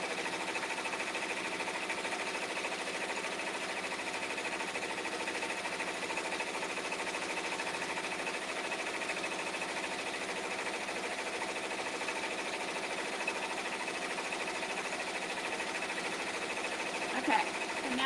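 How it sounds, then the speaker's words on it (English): A sewing machine runs continuously while stitching around the edge of a pot holder, a steady, faint mechanical whir and hum with no pauses, close by and without talk. "So now I'm going to take this over to the machine, and I'm just going to be stitching around the edge"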